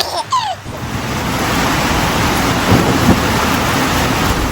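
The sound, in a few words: rain and thunder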